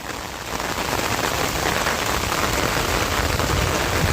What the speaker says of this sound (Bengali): এদিকে বৃষ্টি পড়ছে